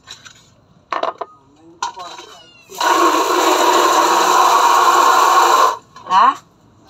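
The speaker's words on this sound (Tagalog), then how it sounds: "Tumahimik ka dyan, pusa ka." A house cat meows in a kitchen, giving a few short, close cries. A long stretch of running water and clinking dishes sits between the meows, and a person talks nearby.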